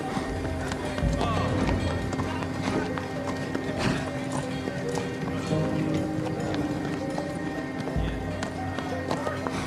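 Horse hooves clip-clop steadily on hard ground amid a busy, noisy background of clatter and general commotion.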